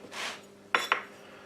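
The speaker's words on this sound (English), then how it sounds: "chopping them up there" A knife cutting spongy cake into little cubes, giving a soft scraping stroke followed by two quick, crisp taps against the board, close up and quiet, with no talk.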